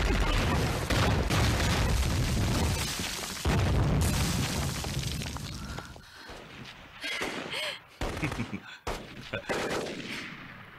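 Battle scene from a Chinese anti-Japanese war action drama series, with dense continuous gunfire and explosion booms loud and sustained for several seconds, then breaking into sparser bursts and impacts amid chaotic noise.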